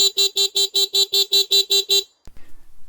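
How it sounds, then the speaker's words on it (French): Rechargeable horn on a Dualtron Storm electric scooter, ten loud, evenly spaced electronic beeps in quick succession close up, then a short clunk and quiet handling noise. "Puis il y a toujours ce klaxon rechargeable"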